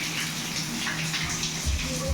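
Water running from open taps in a bathroom and toilet as a tank is drained, a steady close gush with splashing, loud and without talk.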